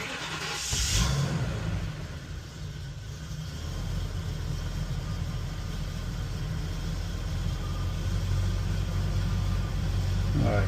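A 2006 Ford E-450 van with a 6.8L CNG engine turns over near the microphone, then settles into a steady, rumbling idle that carries on throughout.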